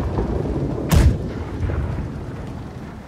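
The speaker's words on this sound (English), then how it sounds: "Left side can fire." Cannons firing from a ship's left side in the naval game Blackwake, one sharp, loud boom with a brief rumble, set against steady low background noise.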